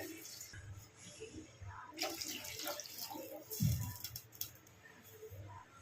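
Water splashes and trickles into a pot of rice for jeera rice in a few uneven pours, fairly quiet and close, with soft clunks in between.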